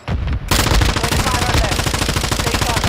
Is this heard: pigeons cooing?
no